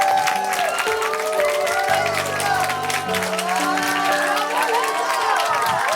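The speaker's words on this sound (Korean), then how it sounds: "우리 박수로 우리 이혜준 학생 모시도록 합니다." A church youth-group audience claps and cheers to welcome a high-school student up to speak. Dense, continuous applause rolls along with some shouts over sustained keyboard music.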